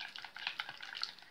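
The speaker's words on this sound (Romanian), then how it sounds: "O să amestecăm așa să topim drojdia." A spoon stirs yeast into water in a small bowl, giving a quiet, quick run of soft clinks and swishes against the side, close up and alone.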